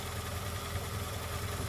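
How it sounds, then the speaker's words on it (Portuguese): A traditional Portuguese-made car from 1982, a limited original model, runs at a steady idle, with a continuous low engine hum and a faint vibration throughout and no talk. "Olha aí o motor do"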